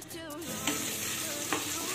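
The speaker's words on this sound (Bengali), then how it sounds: "দেখো আলুটা কিন্তু আমার অনেকটাই ভাজা হয়ে গেছে" Potatoes frying in a pan, a soft continuous sizzle with a few scraping stirs of a utensil, close and fairly quiet with no voices.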